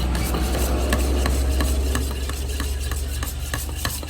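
Old car paint is stirred in a tin, with rapid scraping and rubbing strokes close by over a steady low engine-like hum.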